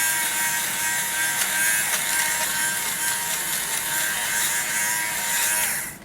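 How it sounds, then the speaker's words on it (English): An electric fabric shaver is rubbed over a pilling sweater or pair of pants, giving a steady, close buzzing whir that runs without a break for about six seconds and then stops abruptly. "you just turn it on, and if your sweater or pants or whatever it is pilling, you just rub this over it"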